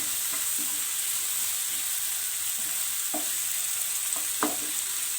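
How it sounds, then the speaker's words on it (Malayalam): Curry leaves are stirred into a soya chunks Manchurian mixture frying in a pan, giving an even, continuous sizzle with a few soft spoon taps and scrapes standing out near the end. "കുറച്ച് കറിവേപ്പില ആഡ് ചെയ്ത് കൊടുക്കാം. മിക്സ് ചെയ്യുക."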